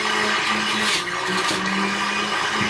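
Jack LaLanne's Fusion Juicer grinding onion, a steady whirring motor hum with brief rougher bursts as the onion is fed in, moderately loud and close.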